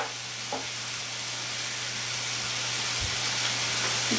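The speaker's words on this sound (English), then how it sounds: "I'm going to throw it back in the pan." A cod fillet sizzles in a hot pan with a steady, dense frying hiss that swells slightly over a few seconds. A low hum runs underneath, and faint clinks surface now and then.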